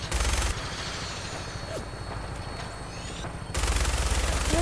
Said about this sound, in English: Random shooting.